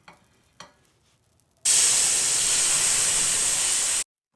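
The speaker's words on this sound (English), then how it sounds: "Because the pan is really hot, soy sauce will be evaporated so quickly and deglaze on the pan." Soy sauce poured into a very hot pan bursts into a loud, steady sizzle and hiss of evaporating liquid for about two seconds, then cuts off sharply, preceded by a couple of faint knocks.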